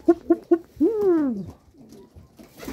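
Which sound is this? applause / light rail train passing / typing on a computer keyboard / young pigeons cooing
young pigeons cooing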